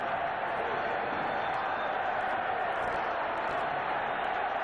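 A 1990 Western Conference Finals ice hockey crowd between Minnesota and Chicago roars steadily after a goal, a dense, sustained wall of cheering filling the arena at an even level throughout.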